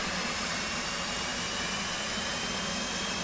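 An F/A-18C jet engine in the DCS flight simulator game makes a steady, dense, loud roar with a high whine, continuous and unbroken throughout.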